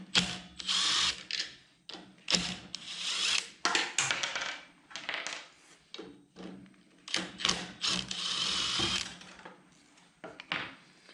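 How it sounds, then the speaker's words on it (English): A power screwdriver backs screws out of the air pump housing on a torpedo heater, in repeated short whirring bursts with pauses between, close and moderately loud. "Remove these 3 screws."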